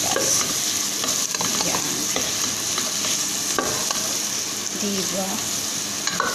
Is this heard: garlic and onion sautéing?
yes